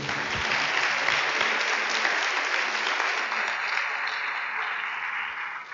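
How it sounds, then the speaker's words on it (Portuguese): Steady, dense applause from a large church congregation during a service, sustained at an even loudness throughout and fading slightly at the very end. "Você pode mais uma vez aplaudi-lo?"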